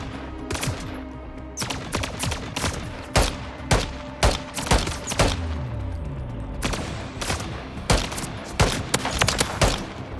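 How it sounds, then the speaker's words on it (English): Gunfire in the video game Call of Duty: repeated sharp shots and bursts of automatic fire crackle throughout, some loud and close, others further off. "Taking effective fire!"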